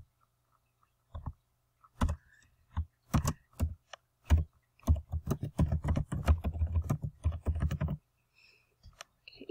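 Login details tapped out on a computer keyboard: quiet, uneven clicks, a few scattered keystrokes at first, then a dense run of typing before it falls silent.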